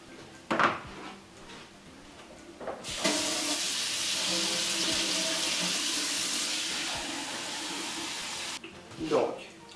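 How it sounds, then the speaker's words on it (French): Water pours into a cooking pot in a steady, loud rushing stream for several seconds, bracketed by brief clunks and handling noises before and after. "on va vider l'eau dans le chaudron"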